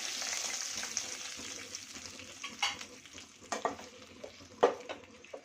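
Chillies and curry leaves sizzling and frying in hot oil for drumstick gojju, a steady hiss with occasional stirring clatter, close and fairly quiet, with no talk.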